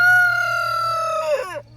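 A rooster crows once on a farm in a long, steady, fairly loud call that wavers and drops at the end, then cuts off.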